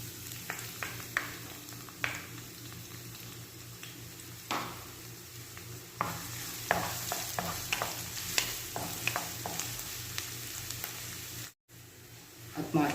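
Garlic toasting in hot oil until golden brown gives a soft, steady sizzle with frequent scraping stirs of a utensil against the pan, moderately quiet, with a brief dropout near the end.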